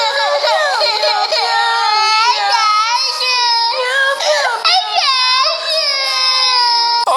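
A small baby cries loudly and close up in a steady run of wavering, high-pitched wails with brief catches of breath between them, heard alone with no other voices.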